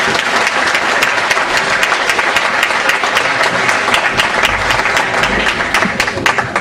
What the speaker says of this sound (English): I'd first like to ask you to give them a round of applause for being here.